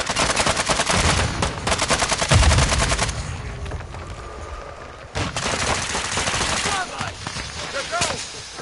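Sustained automatic gunfire rattles in long close bursts through a video game firefight, broken by sharp single shots and a deep explosion thump, with brief pauses between volleys.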